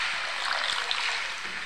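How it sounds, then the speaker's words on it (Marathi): Water pours into a pan of spiced potato curry, a brief continuous rushing hiss close by with no voices. "त्याच्यानंतर त्याच्यामध्ये पाणी टाकायचं।"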